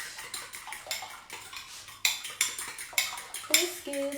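Biscuit dough mixed in a bowl, with a utensil scraping and knocking against the bowl in steady rhythmic strokes, close and clear, with no talking.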